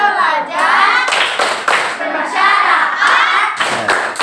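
Elementary school children in an Indonesian classroom clap together in a rhythmic spirit-clap chant. Bursts of group handclaps come in patterned beats, mixed with chanting young voices and the bustle of the room.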